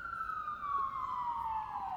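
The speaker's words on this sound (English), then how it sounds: "Sorry, sirens." A single wailing siren in New York slowly falling in pitch, heard at moderate distance over low traffic rumble.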